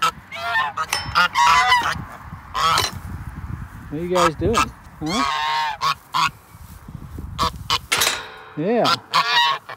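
Geese honk repeatedly in a chicken yard pen, loud and close, in bursts of rising, nasal calls scattered through the clip, with a person talking to the birds in between.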